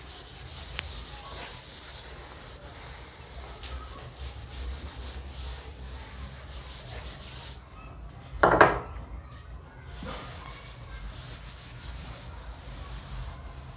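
A teacher rubs out part of a board during a physics lesson, soft scratchy rubbing strokes repeating steadily in the background, with a brief louder scrape midway.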